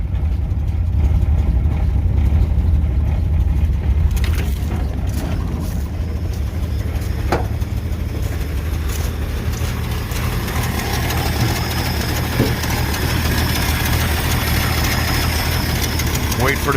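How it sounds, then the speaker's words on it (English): A six-cylinder engine with Duraspark ignition, converted to run on a lawn mower carburetor, idles with a steady low rumble and slight knock, close up and continuous throughout. "our little 6-cylinder runs"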